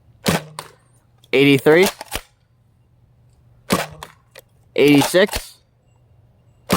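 A Nerf N-Series toy blaster fires darts through a chronograph, with two sharp pops a couple of seconds apart and a voice reading out numbers between them.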